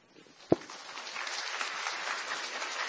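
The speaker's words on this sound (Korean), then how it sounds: "교수님께 감사와 환호의 박수." Audience applause after a Friday lecture on the Japanese economy by a professor. It opens with a sharp single clap, then swells into steady, fairly distant clapping from a large crowd that carries through to the end.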